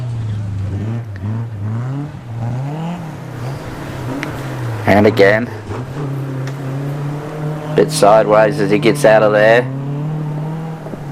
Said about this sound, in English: Nice little car, these ones, certainly making some great noises.